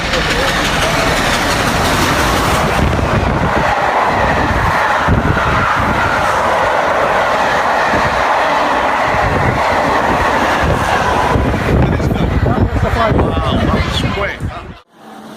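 A vintage locomotive roars through a station at about 201 km/h, a loud sustained rumble with rattling wheels, fading sharply at the end.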